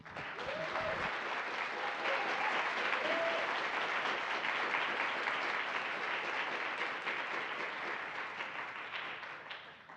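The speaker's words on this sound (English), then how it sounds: "Let's have a round of applause for our panel." A symposium audience applauds a panel at a Native American and Indigenous issues event, steady dense clapping filling the room for about ten seconds and tapering slightly at the end, with a brief voice near the start.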